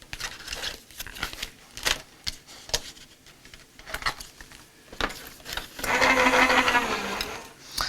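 A die-cutting machine feeds a taped die through, giving irregular clacks and short mechanical bursts, then a denser grinding rumble for a couple of seconds near the end.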